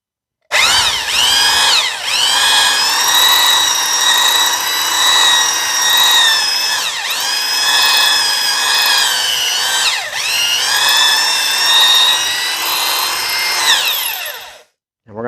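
A drill-driven hone works the cylinders of an International Farmall 300 Utility tractor engine, giving a loud, steady, close whir with gritty rasping for about fourteen seconds, dipping briefly in pitch a few times, then stopping abruptly.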